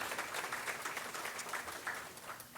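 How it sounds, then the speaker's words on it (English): Faint, distant applause at a groundbreaking ceremony for Denny Crum Hall, honoring Coach Denny Crum's 84th birthday, a soft patter of clapping that fades toward the end. "Everybody give a round of applause."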